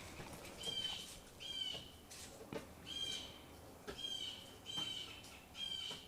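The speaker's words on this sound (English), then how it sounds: "My beautiful birds." Small birds chirp in repeated short bursts of high trills, roughly one per second, fairly faint and distant over a soft background hum.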